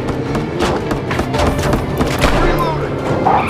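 Gunfire in Gangstar New Orleans, a rapid run of loud shots and thumps packed together in a dense burst that continues throughout under the game's background noise.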